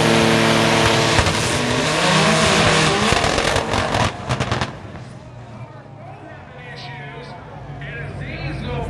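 A drag race car launches into a wheelie at a street racing event with a loud, roaring, crackling engine that then fades into distance, while voices talk and crowd noise rises.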